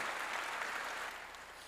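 A church congregation claps together in a faint, steady spatter of applause with no one talking over it.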